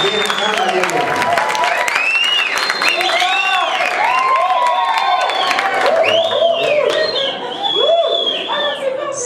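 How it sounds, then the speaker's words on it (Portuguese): Audience at an academic scientific-initiation seminar applauding and cheering for an honored teacher, loud sustained clapping with shouts and excited voices rising and falling throughout, crowd chatter mixed in. "vamos dar uma salva de palmas para a Maria Helena"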